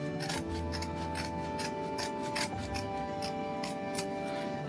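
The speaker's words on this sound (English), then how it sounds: "I'm just going to trim along this side just to trim it out my seam allowance" Scissors snip and trim the fabric seam allowance on a sewn mini sling bag, making a series of close, crisp cuts in a quick irregular rhythm with no talk.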